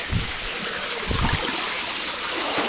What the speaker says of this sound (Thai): น้ำตกจันทเถียนครับ ชนบุรีครับผม